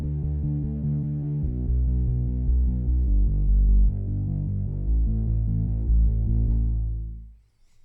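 Synthesized bass patch played at 75 beats per minute, heard alone as a loud, deep, steady throbbing line of sustained low notes that changes pitch every second or so and then fades out at the end.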